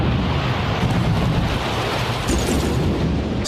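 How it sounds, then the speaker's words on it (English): A bomb explosion destroying a bridge in Thomas & Friends, heard as a loud, sustained rumbling roar of blast and crumbling debris filling the whole stretch without a break. "Bomb detonated!"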